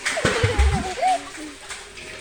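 Water splashes and sloshes as a bucket is drawn up from a well, a few close wet splashes early on with a voice speaking over and between them.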